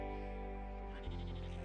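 A sheep bleats in the video game Broken Roads, one sustained wavering bleat heard close and clear.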